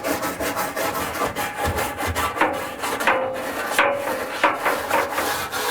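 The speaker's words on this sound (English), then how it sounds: "Now I'll try and get in here and really scrape that back wall, get all that loose lint off here." A brush scrapes loose lint off the metal back wall of a clothes dryer in repeated rough strokes, close and steady, with no talking.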